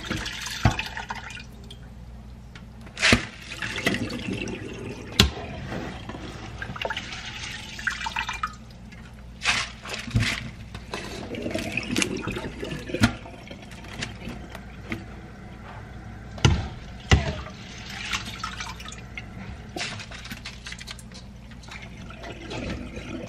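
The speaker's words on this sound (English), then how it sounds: "So let's get to the rinsing." Rice being rinsed in a basket set over a container, with water dripping, splashing and trickling in irregular bursts and a few sharper splashes, fairly close and without talk.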